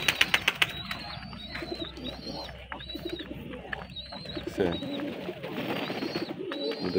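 Domestic pigeons coo in soft, repeated throaty calls close by while drinking water, with light chirps and scattered taps and rustling in the background.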